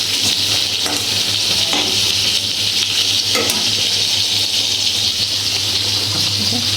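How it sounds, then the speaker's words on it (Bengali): Pointed gourd frying in a pan gives a steady, loud sizzle that runs the whole way through, with a few faint scrapes from stirring and no talk. "আর এদিকে পটলটা ভাজছি"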